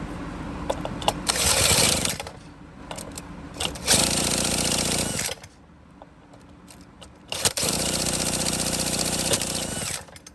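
Homelite Ryobi leaf blower with carburetor gasket and spark plug trouble, sputtering briefly as its small two-stroke engine kicks during repeated pull starts, with loud bursts of cranking and engine noise separated by quieter gaps, heard close up.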